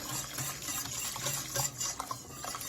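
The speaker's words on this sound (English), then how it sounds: "So just keep stirring" Thickening chili sauce for chili rellenos being stirred in a pot, giving soft, continuous scraping and gloopy swishing at low volume.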